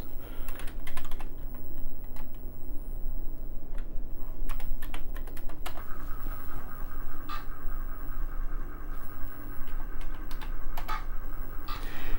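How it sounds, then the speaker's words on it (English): Emulated Commodore 1541 disk drive noise on a Commodore 64 setup while the game Shamus loads: steady mechanical clicking and ticking over a constant hum, with a sustained tone joining partway through, fairly quiet with no talking. "you can hear it does the noise emulating the 1541 hard drive while it loads up"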